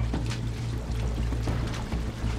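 Seawater gushes into a boat through an opened floorboard out on the ocean, a continuous close, heavy rushing pour over a low churning rumble, with no voices.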